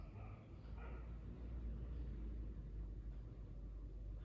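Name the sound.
car driving past outside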